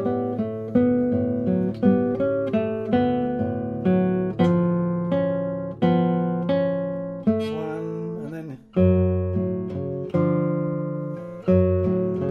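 Classical guitar plays a passage from Barrios' Julia Florida, with plucked notes and sustained chords ringing close and clear in an even, gentle rhythm with no talk.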